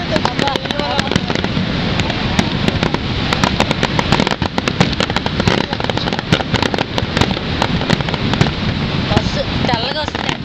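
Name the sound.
fireworks at Niagara Falls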